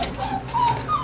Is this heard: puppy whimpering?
yes